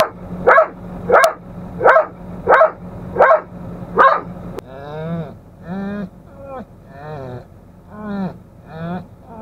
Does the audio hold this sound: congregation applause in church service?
no